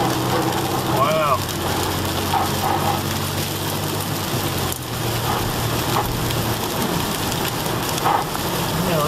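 Heavy rain pours steadily during a drive in Malibu, hissing and splattering on surfaces close by, with a faint voice briefly audible beneath the downpour.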